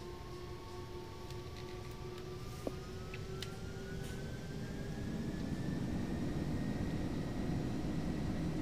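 Boeing 747 jet engines at takeoff in Flight Simulator X, a steady loud roar with rising whining tones that climb slowly in pitch as power builds, with no talk.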